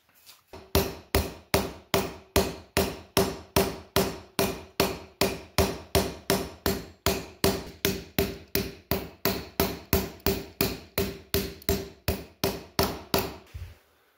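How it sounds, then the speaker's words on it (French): Steady hammer blows flattening the back of a metal fleshing knife blade, about thirty evenly spaced sharp metallic strikes in a regular rhythm, close and clear with nothing else heard. "je vais pouvoir venir aplatir le matériel du dos de la lame"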